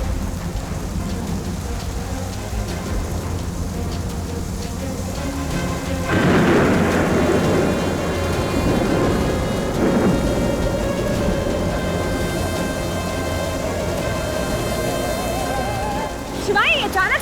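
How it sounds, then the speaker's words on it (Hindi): A thunderstorm builds with steady rain and a loud roll of thunder breaking in about six seconds along, rumbling on through the wet backdrop, then a second surge near the end. "मुझे लगता है तूफान आने वाला है।"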